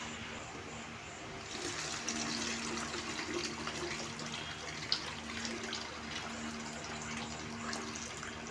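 Tap water runs steadily into a vessel as lentils for Telugu pappu charu are rinsed, a continuous close splashing wash with no voices.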